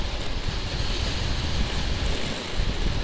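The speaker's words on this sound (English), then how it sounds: "The wind, the sound of the bike." Riding a motorcycle, a steady roar of wind rushing past the microphone blends with the bike's low rumble, constant and loud with no talking.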